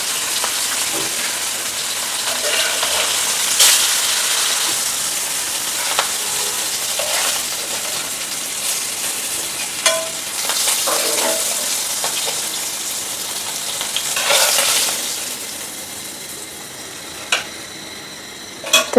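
Onion and chili frying in a pan for a taro and hilsa fish curry, a soft steady sizzle with occasional stirring scrapes and clinks, fairly close and without talk.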